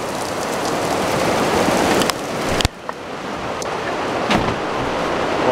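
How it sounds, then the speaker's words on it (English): Heavy rain hisses steadily and loudly, blowing in through an open door, with a sudden thump as the door shuts and the roar drops, then softer continuous rainfall. "let me shut this door, the rain blowing in."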